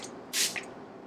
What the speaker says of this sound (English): Now I take the Stay setting spray and I do 3 squirts